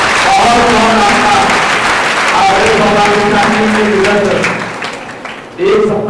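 Loud, sustained applause from a large audience at a religious discourse gathering at an ashram in Burhanpur, dense clapping filling the space before briefly thinning and swelling again.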